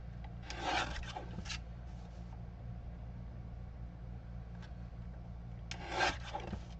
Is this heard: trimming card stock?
yes